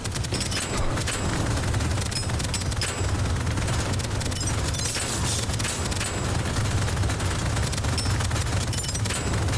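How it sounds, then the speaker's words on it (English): Sustained automatic gunfire rattles without a break in the sci-fi roguelike shooter Deadzone: Rogue, dense rapid shots layered with low booms, loud and close from start to finish. "Don't stop firing."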